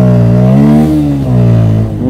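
A Bajaj Pulsar N160 motorcycle engine revs hard on a cleared road during a wheelie attempt. It makes a loud, close, steady drone whose pitch rises and dips, with no talking.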